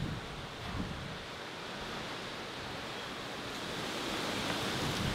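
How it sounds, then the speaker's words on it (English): Wind blows steadily outdoors in a continuous, fairly loud rush that swells slightly toward the end, with no voices over it. "There goes that wind."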